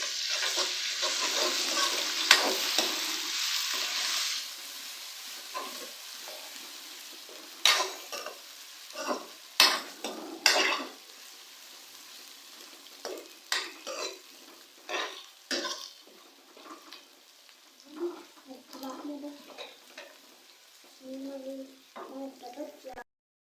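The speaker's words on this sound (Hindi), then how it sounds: "अदरक लहसुन के पेस्ट को मैंने प्याज के साथ 2 मिनट तक फ्राई कर लिया है।" Ginger garlic paste frying with onions in a pan, a steady sizzle at first, then scattered scraping and stirring knocks of a spoon against the pot, fairly faint.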